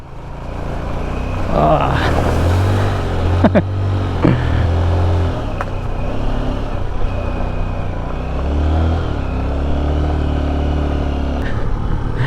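A motorcycle engine hums steadily while riding over a loose gravel road, with rattling and clattering bursts early on and a fairly loud, continuous drone throughout.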